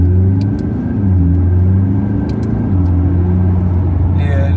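A supercar engine rumbles steadily at close range while driving, low and droning, with a brief lift at the end; voices talk faintly over it.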